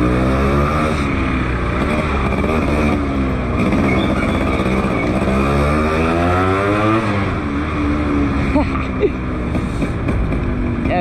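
A Yamaha RX100 motorcycle with a Japanese engine and a slightly slipping gearbox runs close by, its engine note steadily rising and falling as the revs change.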